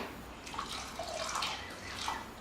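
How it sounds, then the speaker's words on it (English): Half a cup of water is poured into a beef jerky marinade to thin it and dissolve the sugar, a soft, faint trickling splash that runs steadily throughout. "I might just add half a cup of water just to thin it out a little bit."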